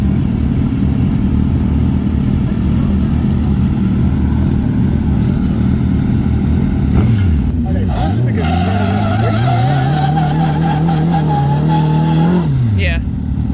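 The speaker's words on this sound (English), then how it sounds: "Now this just is a friendly race right here." Loud motorcycle engines rev and roar during a friendly race, one rising in pitch near the end, with tire skids, under loud continuous noise and some talking.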